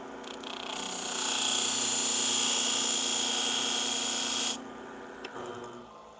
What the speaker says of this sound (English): So this is not the ideal way of sharpening curved shears